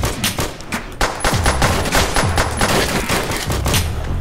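Rapid bursts of automatic gunfire in a Roblox zombies shooter game, dense and continuous with sharp repeated shots throughout, loud and close.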